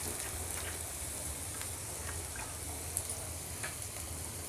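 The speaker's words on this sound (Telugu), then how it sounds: "పచ్చివాసన పోయేంత వరకు ఫ్రై చేసుకోవాలి." Onions fry with spices in a pan, giving a soft, continuous sizzle with faint crackles and the occasional stir. The sound is steady and fairly quiet, with no talking.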